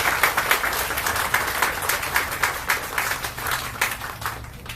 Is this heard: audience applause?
yes